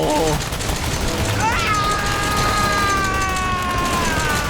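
Gunfire from a heavy-recoil weapon in the video game Resident Evil 7, a loud dense burst of shots under game noise, followed by ringing tonal sound effects.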